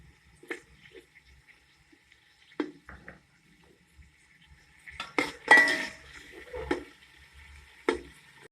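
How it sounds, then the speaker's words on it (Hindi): Tomatoes tipped into hot oil with lightly fried whole garam masala for a junglee chicken pulao, giving scattered utensil clinks against the pot and a short burst of sizzling and stirring midway, with quiet gaps between. "अब मैं इसके अंदर टमाटर ऐड कर दूंगी।"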